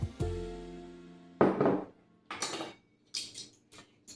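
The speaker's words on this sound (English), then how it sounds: "scrape this out a little bit" A spoon or spatula works against a bowl: a ringing metallic clang that slowly fades, then a louder scrape, followed by several short knocks and scratches spaced apart, close and without talk.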